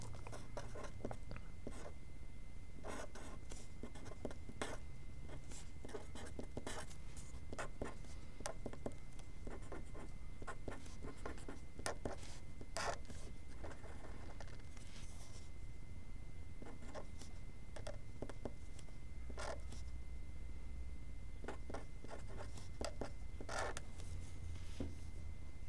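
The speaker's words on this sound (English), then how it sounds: "I'll write some variable examples" A teacher handwriting variable examples, producing a continuous run of faint scratchy strokes and taps of pen or marker over quiet room tone, with no talking.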